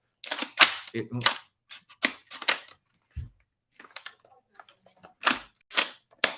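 Sharp metallic clacks of a pistol slide being worked with the magazine not seated, several quick close snaps in irregular clusters, with someone speaking between them.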